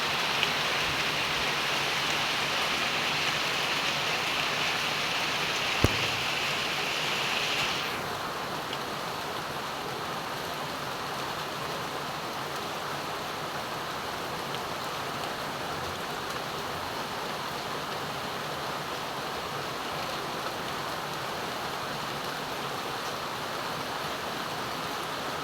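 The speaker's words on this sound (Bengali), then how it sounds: "অনেক জোরে আসছিল এই যে বৃষ্টিটা।" Heavy morning rain in Noakhali, pouring steadily and loudly onto leaves and surfaces near a house, a dense continuous hiss that eases slightly partway through, no talk.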